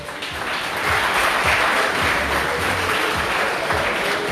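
Audience applause at an evening karate gala, a dense steady patter of clapping that swells after the first second and holds at an even level, with a faint low rumble beneath.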